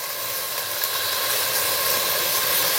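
Chopped onions sautéing in a pan for chicken dum biryani, a steady, close hiss of frying that holds evenly throughout.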